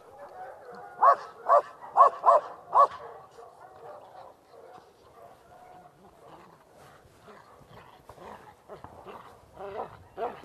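A police dog in training barks in a quick burst of five or six loud, close woofs, followed by quieter sounds and a voice speaking.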